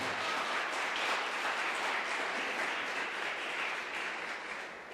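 An audience at an emotional intelligence talk applauds in a steady wash of clapping that thins slightly toward the end.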